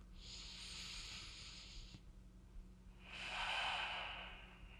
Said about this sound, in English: Just take a full breath in and out